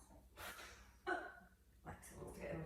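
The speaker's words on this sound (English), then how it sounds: "And you're making some noises, Lexi dog." A dog makes several snorting, gasping breaths close by, quiet bursts separated by brief pauses during a home stretching session.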